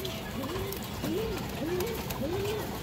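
Caged pigeons coo in repeated soft, rolling calls, roughly four cooing phrases spaced evenly, close by over a faint background hiss.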